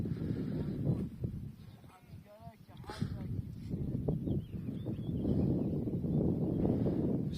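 Sheep bleat a few times amid a flock's shuffling, with wind noise on the microphone and a person speaking nearby.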